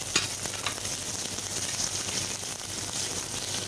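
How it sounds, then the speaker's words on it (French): Shrimp frying gently over low heat in a pan, giving a steady soft sizzle that runs throughout, with faint stirring noises and no talk. "Les crevettes, je n'aime pas les cuire trop fort. Je les cuis tout doucement. Vous entendez? Ça chante tout doucement."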